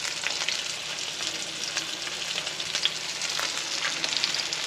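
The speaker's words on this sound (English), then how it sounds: "Fry it in the skillet." Mangrove snapper seasoned with salt, pepper and garlic frying in a skillet, a steady close, dense sizzle and crackle of hot oil running the whole time, with no talking.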